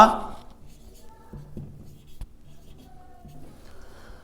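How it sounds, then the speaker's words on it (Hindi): Writing on a board during a classroom grammar lesson: a burst of scratchy strokes at the start, then light, intermittent scraping with a faint voice in the background. "तो हम लिखेंगे सीता"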